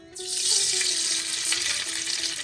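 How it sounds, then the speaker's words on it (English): Bay leaf, cinnamon and cardamom drop into hot ghee for a shahi morog polao, setting off a sudden, strong sizzle that holds as a steady hiss with faint crackles. "Temper the oil with some bay leaf, cinnamon and cardamom."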